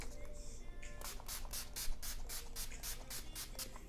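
Wet n Wild matte setting spray misted onto a face, a rapid run of about a dozen short, hissing spritzes in quick even rhythm, close and clear.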